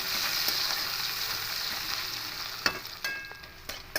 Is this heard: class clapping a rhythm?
no